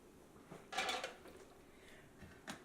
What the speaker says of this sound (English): I'll transfer this to our roasting pan.